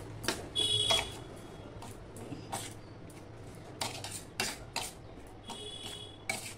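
Tiffin ingredients are mixed with chutney in a bowl, giving a string of irregular metallic clinks and scrapes of a spoon against the dish, close and fairly crisp, with quiet gaps between them.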